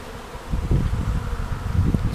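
A swarm of honeybees buzzes steadily and close by, a dense low drone that swells slightly midway and holds to the end, with no voices present.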